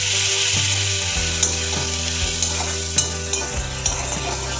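Green chilies, boiled garlic and onions frying in spiced oil in a pan, with a steady sizzle overlaid by a low hum and periodic scraping clicks of a spatula stirring, close and fairly loud without talk.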